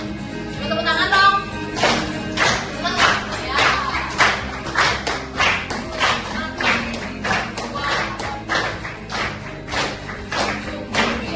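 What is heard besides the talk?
audience clapping hands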